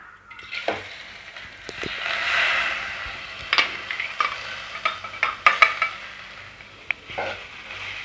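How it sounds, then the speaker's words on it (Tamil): Moong dal roasting in ghee in a pan is stirred with a spoon, giving a soft sizzle under scattered scraping and light metallic clinks from the utensil against the pan, with no voices. "இந்த நெய்யிலே நம்ம பாசி பருப்பை ரோஸ்ட்டு பண்ணி எடுத்துப்போம்"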